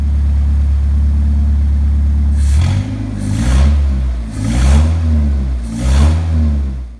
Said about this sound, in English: The throttle response is surprising. The engine's definitely not running lean.